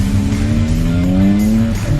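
Race cars run on a race track, a loud continuous engine whine rising in pitch as one car accelerates past nearby, with a faint tire squeal.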